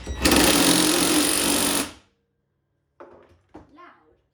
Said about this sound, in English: What I'm going to do now is quickly just tighten this main nut up, like so.